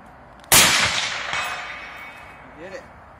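A single loud AR-15 rifle shot cracks out at an outdoor range, followed by a long ringing decay and a faint voice afterward.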